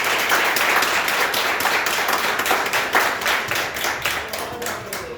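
A church congregation claps and applauds together in praise of Jesus at a pastor's anniversary service, a dense, steady wash of clapping filling the room throughout.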